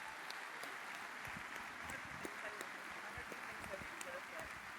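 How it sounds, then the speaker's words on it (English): An audience applauds first-place winners at the closing ceremony of Kawaiicon III, a convention; steady, dense clapping and cheering fills the room at a moderate level with scattered sharp claps, ending in a louder burst. "Round of applause for our first place winners."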